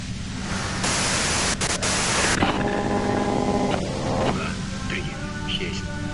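Radio static in the video game Disco Elysium: a steady broadband hiss that runs through the whole stretch, with bursts of brighter noise and wavering tuning tones, and indistinct voices partly buried beneath it.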